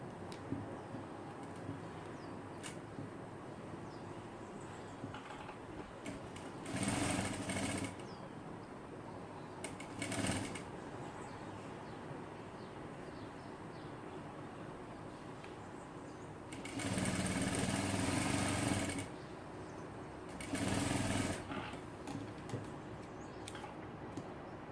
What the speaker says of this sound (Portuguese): e passo a costura